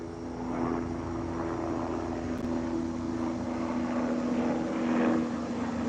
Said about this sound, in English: got a chopper in the sky.